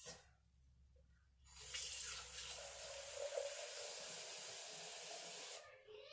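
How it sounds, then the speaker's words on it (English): Filtered water poured into a container while making cold brew coffee, a steady splashing hiss that begins after a quiet moment, runs for about four seconds and then stops. "So you just pour in your water."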